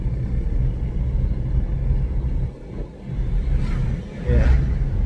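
Car cruising on a road, driven by a mother, with a steady low engine and road rumble throughout, a brief dip in level midway and a soft whoosh near the end.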